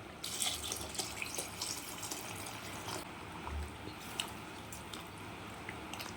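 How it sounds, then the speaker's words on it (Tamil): Water pours and splashes steadily into a cooking pot for mushroom biryani, close by, with a brief low thump partway through and no talking. "தண்ணி சேர்த்துக்கலாம்."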